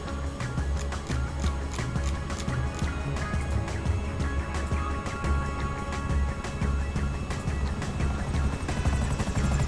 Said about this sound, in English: they got some attack choppers on me